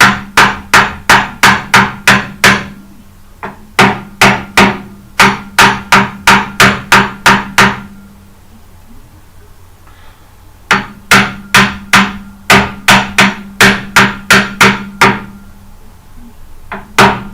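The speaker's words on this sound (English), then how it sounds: "you might need a bit of hammer to kick it in" A hammer strikes metal in fast, sharp, ringing blows, two long bursts separated by a pause, then a shorter run, loud and close.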